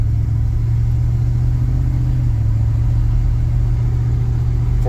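A 1978 Dodge D200 pickup with 4.10 gears and no overdrive cruises on rural back roads, its engine a loud, steady low rumble from inside the cab with no talking.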